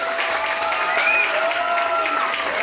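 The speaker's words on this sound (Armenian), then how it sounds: "Բարձր ծափարեք" An audience applauds at a folk ensemble's concert in an Armenian village, a sustained wash of clapping from a crowd, with musical tones sounding faintly underneath throughout.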